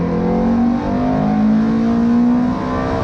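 Ferrari 430 GT3 Challenge race car running with track-day silencers on the Silverstone Grand Prix circuit, its engine a steady close droning roar with a sustained tonal whine, held loud and continuous with no talk.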